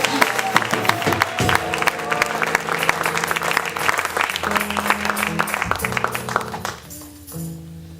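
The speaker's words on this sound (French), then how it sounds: "Acclame pour Jésus." A church congregation at a convention applauds continuously, with dense clapping and some voices and music mixed in underneath, the applause easing slightly near the end.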